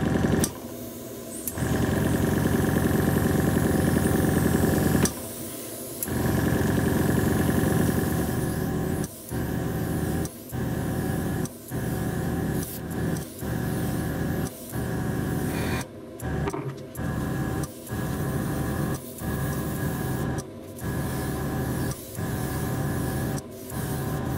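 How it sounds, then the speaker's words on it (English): Workshop extractor fan and airbrush compressor running together while a model locomotive is repainted, a steady loud mechanical hum with a high whine, broken by a series of brief on-off pauses, with no talking. "The noise you can hear is the extractor fan"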